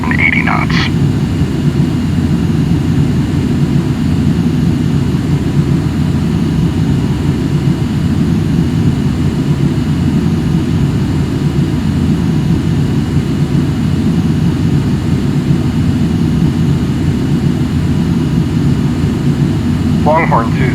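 Jet airliner engines descending in the Microsoft Flight Simulator video game give a loud, steady drone that holds unchanged throughout, with brief high chirps at the start and end.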